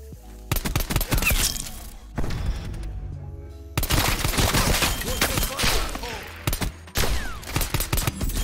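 Pistol fire in a multiplayer shooter game: loud, close bursts of rapid shots in several clusters, separated by brief lulls, with players talking over the gunfire.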